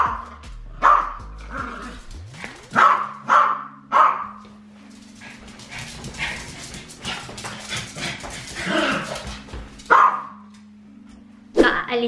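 A pet dog barks in short, loud, close bursts spaced across the stretch, with softer whimpering between them, while someone talks throughout.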